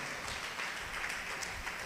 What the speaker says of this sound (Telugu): గట్టిగా చప్పట్లు కొట్టి గట్టిగా దేవుని స్తోత్రం